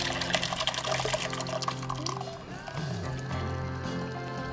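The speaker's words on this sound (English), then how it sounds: "take your strainer and just a bowl, and this is really low tech, but it's gonna work just fine. And then take this and go ahead and pour." Spiced chai concentrate with ginger and tea poured through a strainer into a bowl, a steady continuous liquid splash and trickle lasting several seconds at close range, with background music underneath.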